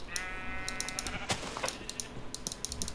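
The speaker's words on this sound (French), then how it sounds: "Ah il y a un mouton noir." A black sheep in Minecraft gives a soft, drawn-out bleat early on, quiet and partly buried under rapid keyboard clicking and other faint game sounds.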